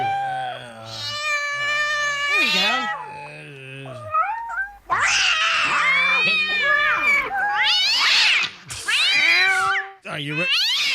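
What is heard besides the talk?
cat meowing sound effect for Cash Kitty contest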